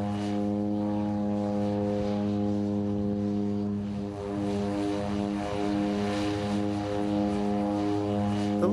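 A propeller seaplane flies between St. Thomas and St. Croix in the U.S. Virgin Islands, giving a loud, steady, droning engine hum that holds unbroken from start to end.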